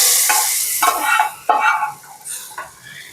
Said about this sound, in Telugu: ఇప్పుడు ఈ తాలింపుని పప్పులో వేసుకుందాం